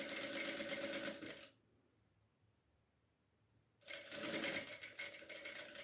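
A sewing machine stitches fabric for a retractable pencil case in two close, steady runs separated by a quiet pause of about two seconds, with no talking.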